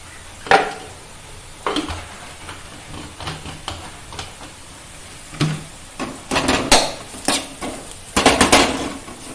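A spatula stirs chili powder into a green gram stir-fry in a pan, with repeated close scrapes and clinks against the pan over a faint sizzle, in uneven bursts.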